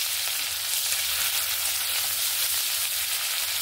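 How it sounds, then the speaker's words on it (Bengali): Onion frying in oil tempered with black cumin gives a steady, soft sizzle that continues evenly and close by, with no voices. "পেঁয়াজটা এখানে লাল লাল করে ভাজা হয়ে গেছে।"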